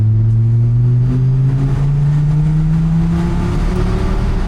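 A Dodge Viper RT/10 engine revs loud and close, its deep exhaust note rising steadily in pitch with no talking.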